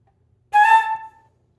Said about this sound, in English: the way you do a grace note is you just play the little note really fast and you slur